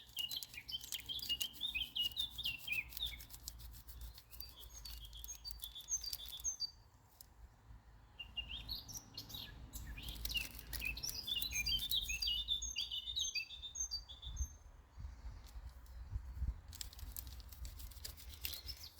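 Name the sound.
birds singing in the morning background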